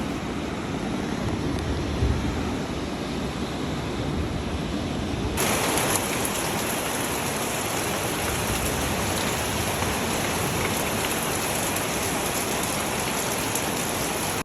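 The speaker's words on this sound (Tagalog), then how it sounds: "napakalakas ng ulan" Heavy rain pours steadily at night, a dense unbroken hiss of drops on surfaces that brightens a little partway through and then holds evenly.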